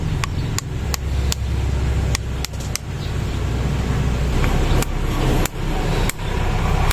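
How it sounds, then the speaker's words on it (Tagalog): Sharp metallic hammer taps drive the pin out of a ZTTO hydraulic brake hose fitting on a bicycle, struck as a series of separate blows of varying spacing over a steady low background hum. "So, dahan-dahan ko lang pupukin tong pin."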